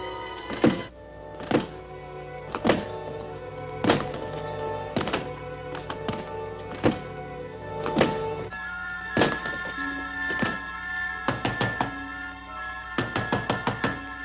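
Repeated heavy thuds of a door being battered and broken down during a tense scene in an old cliffhanger serial, loud blows coming at an irregular pace with pauses, over a steady background of music.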